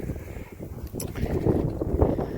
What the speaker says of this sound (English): there's a nice cool wind. It's actually really nice. But I'm sure that it really sucks for the audio